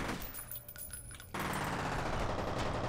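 Rapid automatic gunfire in the video game F.E.A.R., a quieter stretch of clicks and mechanical handling, then a sudden loud sustained burst of dense shots to the end.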